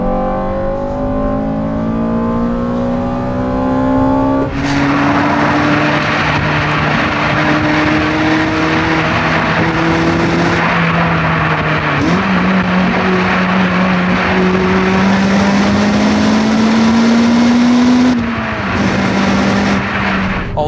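A Honda Civic Type R FN2 with an HKS intake revs hard through its VTEC crossover, its loud engine note and intake roar climbing steadily. Brief dips mark gear changes before the revs climb again.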